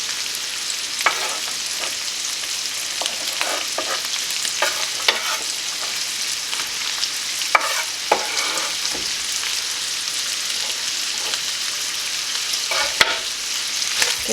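Sausage, celery and onion sizzle steadily in a pan, with a constant hiss broken by scraping clicks and knocks as a utensil stirs the mix at irregular intervals, no voices.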